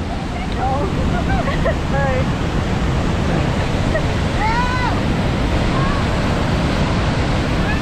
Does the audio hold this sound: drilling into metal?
no